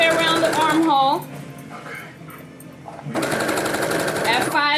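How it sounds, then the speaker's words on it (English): A sewing machine runs in a steady mechanical whir while stitching around the armhole of a top. The whir is heard loudly at the start and again near the end, with a quieter gap in the middle. "I'm gonna take it to my sewing machine"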